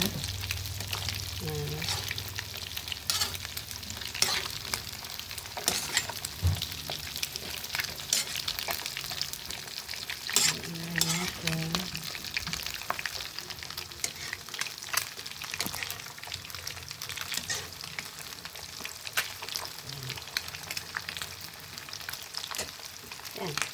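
Mixed vegetables simmering in pure coconut milk in a pan for ginataang gulay, a steady bubbling sizzle running throughout with occasional stirring clatter, fairly close and even in level, with brief voices now and then.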